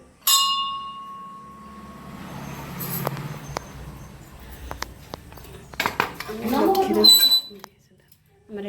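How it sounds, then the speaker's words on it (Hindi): A temple bell in a village temple rings with a bright, sustained tone at the start, followed by clanks and metallic knocks, while people talk nearby. "घंटी बजे दियो"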